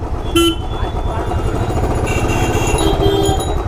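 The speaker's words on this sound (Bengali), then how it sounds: "অটোর রাজত্ব, গ্যাদারিং, জ্যাম মানেই বুঝে যাবেন আমতলার কাছে চলে এসেছেন" Busy road traffic jam crowded with auto-rickshaws near Amtala, engines rumbling and a short car horn toot near the start, more honks further back, steady and loud throughout.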